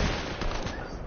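Rapid gunfire in a shooter video game, a dense burst of loud overlapping shots filling a brief moment.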